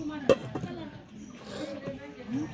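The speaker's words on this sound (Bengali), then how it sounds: "এখন এখানে ঢাকনা দিয়ে ঢেকে রাখবো" A metal lid clanks once onto a cooking pot of silver carp curry with vegetable stalks, a sharp close knock followed by quieter kitchen rattles while someone talks.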